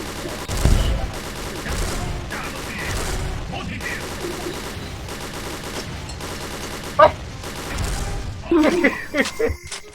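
Rapid gunfire bursts in the XSHOT shooter game, repeated volleys of shots through most of the stretch with a louder crack near the end, a voice talking over the shooting.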